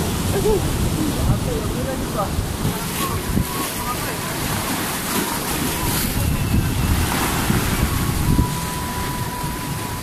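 Large ocean waves crash and roll continuously at a beach in Ternate, Cavite, with heavy wind rumbling across the microphone, a constant loud surge with no pauses.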